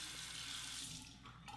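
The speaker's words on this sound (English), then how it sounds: "wet this under the cold water." Cold water runs from a tap over a shaving alum block, a steady close splashing stream that fills the short moment on its own.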